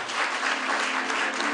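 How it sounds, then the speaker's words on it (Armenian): Audience applause for a singer invited onto the stage at a Miss & Mister Arabkir pageant, a dense, steady burst of clapping held at even loudness throughout, with no talk over it. "Խնդրեմ, ծափարությունները։"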